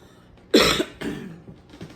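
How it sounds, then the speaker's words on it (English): One sharp, harsh cough bursts out, followed by a second weaker cough and some rough breathing, close and alone. "Still got that cough."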